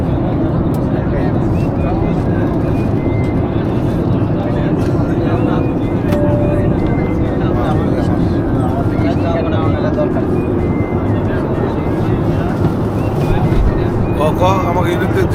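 A steady, loud, even roar fills an airliner cabin in flight above Dhaka on a Biman flight, unchanging throughout, with faint voices under it.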